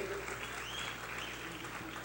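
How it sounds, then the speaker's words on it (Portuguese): Applause from an audience at a community event, quiet and steady, with a low hum underneath and faint talk mixed in. "Uma salva de palmas para a Lud."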